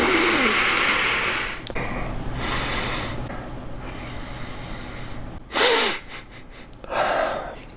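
Someone sniffing a glass of Russian River Intinction beer: a few short, sharp nasal inhales close to the microphone, separated by quiet breathing.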